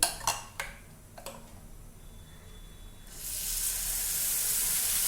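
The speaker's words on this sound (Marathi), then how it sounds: "तव्याला आपण तेल लावून घेऊया त्याच्यावर आपण डोसा घालणार आहे" Moong and sprouted matki dosa batter hitting an oiled griddle over a low flame: a few sharp clicks and taps, then a bright, steady sizzling hiss that starts partway through and keeps going, close and fairly loud.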